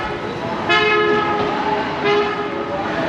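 Vehicle air horn honking twice in a busy street in Sapa, Vietnam, two loud sustained blasts about a second apart over steady traffic noise.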